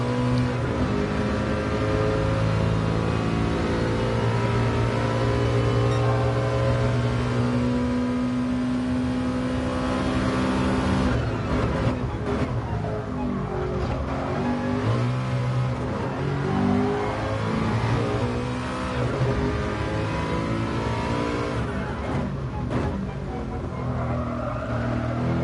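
Race car engine lapping Bathurst in GT Sport, a loud continuous tonal drone that climbs and drops in pitch through gear changes and throttle lifts, with brief crackles around the midpoint, no voices.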